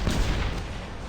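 A short, loud burst of very rapid video game gunfire, shots blurring into one continuous rattle.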